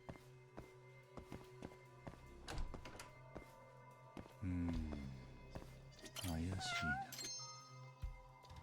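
A cat meows in the Judgment video game, with several drawn-out yowling meows rising and falling amid thumps, footsteps and other game sounds, while people talk at moderate volume.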